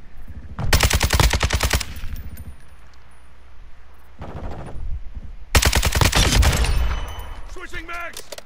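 Rapid automatic gunfire from a multiplayer shooter game, with loud close bursts of about a second each, a fainter burst between them and a dull background rumble.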